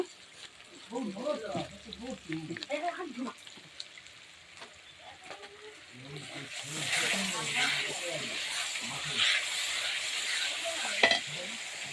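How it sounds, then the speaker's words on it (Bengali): Cauliflower and peas being stir-fried in a pan make a loud sizzling hiss that starts midway and continues to the end, with a utensil knock near the end; someone speaks before and over the frying. "এবার আমি কপি, মটরশুঁটিগুলো দিয়ে কষিয়ে নেব।"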